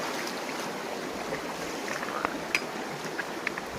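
Creek water flows over stones at a trail crossing near the Walls of Jericho, a steady broadband rush close by with a few small splashes and drips standing out.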